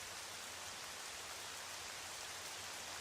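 Steady falling rain fills a quiet, music-free dungeon in The Legend of Zelda: Twilight Princess, a soft, even hiss of drops that holds unchanged throughout with no voices.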